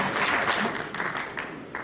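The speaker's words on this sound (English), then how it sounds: "Please give him a round of applause." Audience applause at a Nigerian consulting engineering association gathering, a dense wash of many hands clapping at moderate volume, steady throughout with no voices on top.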